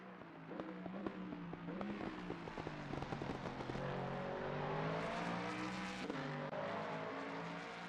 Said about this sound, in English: Such a good sounding car